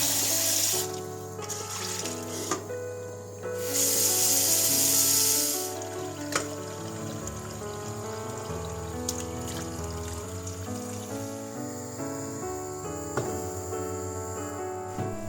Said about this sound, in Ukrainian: Першу воду від м'яса зливаю, гарнесенько промиваю